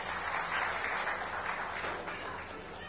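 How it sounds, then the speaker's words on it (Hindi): An audience at an administrative district meeting in Sukma applauds a newly posted official, a steady, soft wash of many hands clapping at a distance for a few seconds, faint and uniform. "मैं चाहूंगा जोरदार तालियां"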